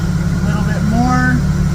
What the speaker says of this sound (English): Nice smooth idle right there.